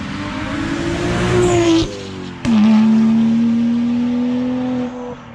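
A BMW with an N55 engine revs hard and roars past, its exhaust note rising, dropping briefly, then surging again in a long sustained blare.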